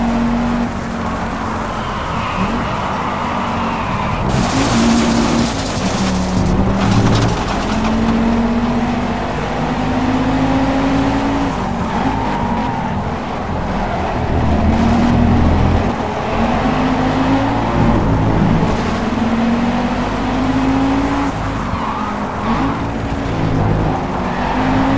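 Ford Focus race car engine in the Project CARS racing game, droning loud and steady with pitch climbing and dropping through repeated gear shifts, plus occasional tyre noise over continuous racing ambience.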